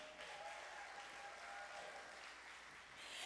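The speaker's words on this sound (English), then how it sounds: "Can we give that a round of applause as well?" Concert audience applause fills the room as a steady, dense patter of many hands clapping, somewhat distant and even throughout, with no talking over it.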